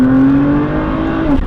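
A 1000 WHP Mitsubishi Evo 9 running 48 psi of boost accelerates hard with its tires spinning. The engine note is loud, close and rising, and breaks off abruptly after about a second and a half.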